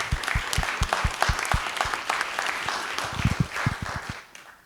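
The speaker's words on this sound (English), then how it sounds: "can we offer them a round of applause?" A town hall audience applauds local government workers with steady, close clapping and a few louder hand claps that taper off at the end.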